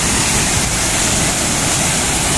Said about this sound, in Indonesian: Tapi inilah lokasi air terjun Batunangan